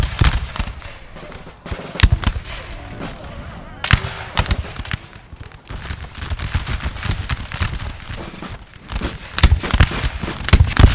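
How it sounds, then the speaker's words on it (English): Infantry musket volleys in a Napoleon Total War battle, with many sharp cracks and ragged bursts of gunfire, some near and loud, others distant. They come in irregular clusters over a continuous battlefield din. "The Russians here getting good volleys off in these Voltigeurs, and they're not having any of it either."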